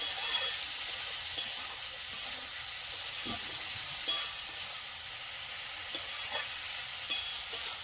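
Fish frying in a pan while being stirred: a steady low sizzle and hiss, faint and close, broken by occasional soft scrapes and clinks of the spatula.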